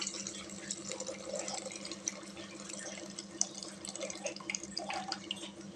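Tamarind water trickles and splashes faintly into cooked dal for sambar, a soft, continuous liquid pour with small drips in a quiet kitchen.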